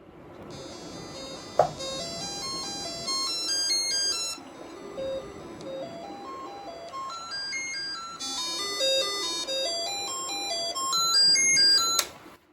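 Bright electronic square-wave tones from a Commodore 64 sound chip step up and down in rapid arpeggiated scales, a chiptune-style sequence of synthetic beeps playing continuously.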